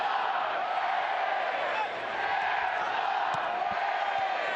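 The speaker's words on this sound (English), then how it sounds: "Crowd alive and well." Loud, steady roar of a stadium crowd at a 2019 professional soccer match between Tampa Bay Rowdies and Pittsburgh Riverhounds SC. Dense, continuous cheering and shouting fills the whole stretch with only a brief dip.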